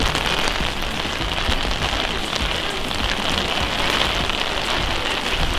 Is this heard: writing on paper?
no